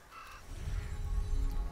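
Crows cawing in the game Tearaway Unfolded, a few harsh calls set over a low, swelling rumble that grows louder toward the end.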